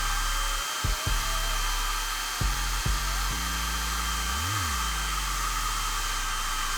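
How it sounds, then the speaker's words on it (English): A hair dryer with a diffuser, set to full heat and low blow, drying curly hair; a steady close airflow roar runs throughout, with a few brief bumps and a short pitch wobble as the dryer moves. "on your dryer, I always like to use it on a full heat and a low blow"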